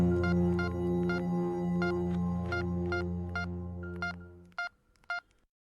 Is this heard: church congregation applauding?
no